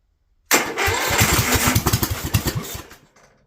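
A Honda GX390 small engine with the choke on cranks after a moment of silence, catches and runs loudly with rough, uneven pulsing for a couple of seconds, then sputters and dies away.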